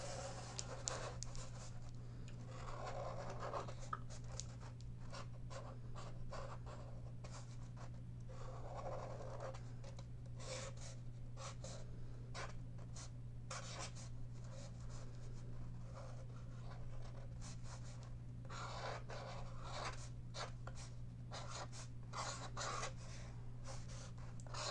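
A black washable felt marker drawing on a cardboard paper towel roll, giving soft, intermittent scratchy strokes in bursts over a steady low hum, close and fairly quiet, with no talking.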